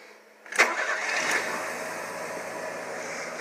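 A fuel-injected car engine with an electric fuel pump cranks briefly, catches with a loud burst and settles into a steady, close idle.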